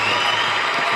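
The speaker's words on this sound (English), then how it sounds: "let's clap it up for that." Studio audience applause after a call to clap for a contracted mental health professional, a steady, dense wash of clapping and crowd noise filling the whole second at even loudness.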